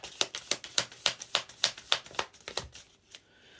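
Tarot cards are drawn and shuffled by hand, making a quick, even run of crisp flicks and snaps at close range that slows and fades into quieter rustling.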